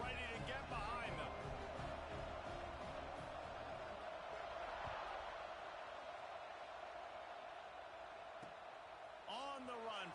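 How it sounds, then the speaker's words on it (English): Stadium crowd at a football game kickoff, a broad sustained roar of many voices filling the space, steady and loud throughout with a commentator's voice briefly over it near the start and end. "this crowd now ready to get behind them."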